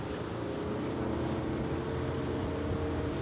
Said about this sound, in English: this is a boat that doesn't need much horsepower to go fast